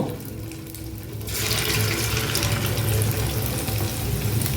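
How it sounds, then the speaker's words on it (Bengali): Chicken pieces for a gondhoraj chicken fry drop into hot oil one by one, and the frying settles into a steady, fairly loud hiss and crackle that holds to the end. "তেল গরম হয়ে গেছে আর আমি এখন ফ্রাইগুলো ভেজে নেব এইভাবে একটা একটা করে দিয়ে দেব"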